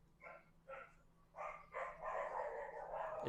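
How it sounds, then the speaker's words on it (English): Two visiting dogs bark in a series of short, fairly faint barks at a distance, coming in quick pairs and then a busier run of overlapping yaps, with no talking over them. "I've got 2 dogs over."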